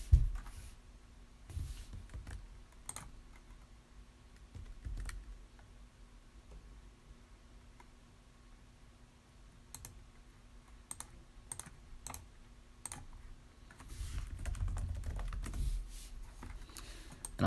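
Computer keyboard typing and mouse clicks, sparse scattered keystrokes and short bursts, quiet and close, over a low hum with a soft rumble near the end.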